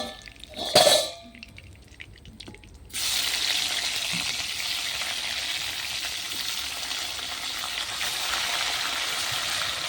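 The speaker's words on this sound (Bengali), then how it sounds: "এগুলো ভাজলে সব মাছ ভাজা হয়ে যাবে।" Tangra fish fry in oil in a pan over a clay stove: a short clatter and near silence open, then a loud, steady sizzle bursts in and keeps crackling evenly to the end.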